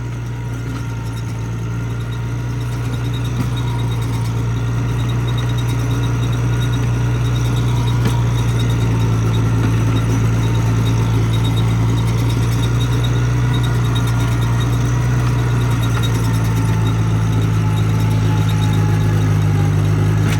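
A Cub LoBoy tractor engine runs steadily on a farm, a loud, constant low drone that holds an even pitch throughout with no talk over it.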